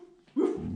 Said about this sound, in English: Can you bark?